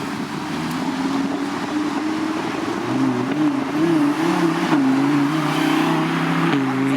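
A Lamborghini Huracán engine runs loudly and steadily, then revs up and down several times, its pitch rising and falling with a faint wind rush.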